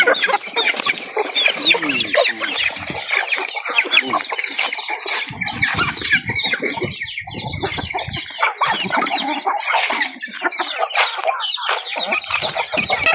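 A flock of chickens clucks and squawks busily while being fed on a small farm, a dense, loud, continuous chorus of overlapping calls with occasional crowing mixed in.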